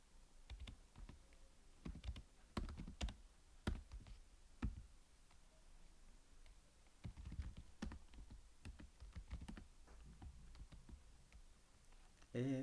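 Typing C# code on a computer keyboard, irregular bursts of close, crisp key clicks and taps with short pauses between runs, quiet room, no talking.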